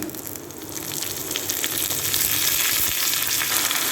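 Fenugreek, cumin and curry leaves tempering in hot oil for sambar, a loud close crackling sizzle that swells and stays dense throughout, with faint stirring.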